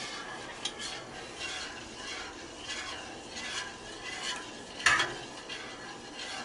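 Spoon stirring cheese into homemade mac and cheese in a pot, with repeated soft scraping and sticky sloshing strokes and one sharp clink, close and fairly loud.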